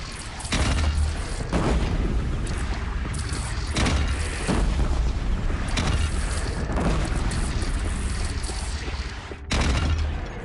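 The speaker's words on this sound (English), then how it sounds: "They only have one cannon!" Repeated booms and explosions from cannon fire during a bridge battle in the PS4 game Horizon Zero Dawn, heavy bursts recurring every second or two over a rumbling, chaotic battle din.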